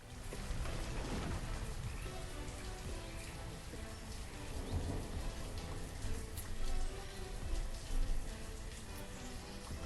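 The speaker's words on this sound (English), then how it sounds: "it's early summer and we are getting rained on" Steady rain falls in the city-building game Banished, a dense, continuous patter on surfaces with faint rumbles underneath, holding at an even level throughout with no voices.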